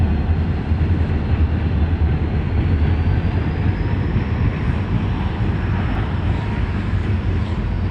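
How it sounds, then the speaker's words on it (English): A Pan Am Railroads freight train passing a cemetery, a loud, steady, continuous rumble and roar of rolling cars that holds without a break throughout. "The train happens to be going by. It's a freight train"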